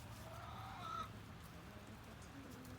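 Rescued hens, among them a barred rock and a gold laced Wyandotte, give faint, sparse clucks and murmurs under a steady background hiss like rain. The sound is quiet and a little distant.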